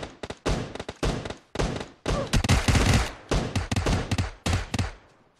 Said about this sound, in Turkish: Aa vurdum onu vurdum